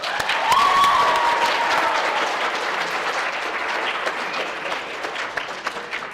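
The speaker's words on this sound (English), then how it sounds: "just one more round of applause to our track team" Applause at a high school state track assembly, a gym full of clapping that starts loud and dense, then gradually thins and fades, with a brief cheer near the start.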